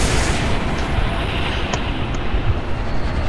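Heavy rumbling barrage of missile launch explosions in the Halo Reach video game, a loud continuous roar with a few faint higher pings, sustained without a break and with no voice over it.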